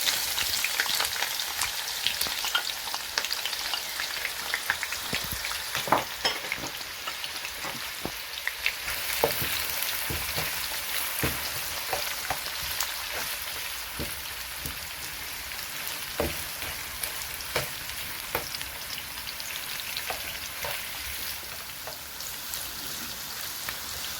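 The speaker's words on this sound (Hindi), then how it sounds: "प्याज ऑयल में डालते हैं।" Chopped onions frying in four to five spoons of hot oil for a Hindi-Urdu mixed vegetable sabzi, a steady crackling sizzle with scattered pops that runs unbroken throughout, with no talk over it.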